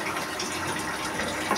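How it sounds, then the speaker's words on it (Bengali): A small splash of water hits spice paste frying for a spicy chicken curry, giving a brief burst of hissing, bubbling liquid close to the pan, with no talking. "মশলাটাকে একটু ভালো করে কষানোর জন্য দিয়ে দেবো সামান্য পরিমাণ পানি"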